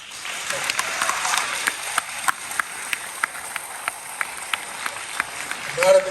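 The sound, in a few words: audience clapping at meeting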